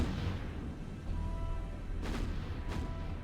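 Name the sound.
naval gunfire from the video game War on the Sea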